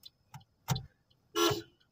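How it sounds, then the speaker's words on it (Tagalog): A few short honks from a car horn, separated by gaps, ending in one longer blast; no talking. "Gagamitin mga busina."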